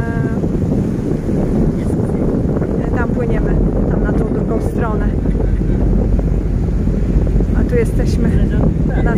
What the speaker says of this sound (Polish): Ale się wieje wiatr.